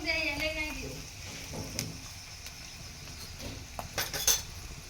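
A spoon stirs spiced wild greens (digvadi) with turmeric, masala and chili in a cooking pan, giving scattered metallic scrapes and clinks against the pan over a low background, with a voice speaking early on.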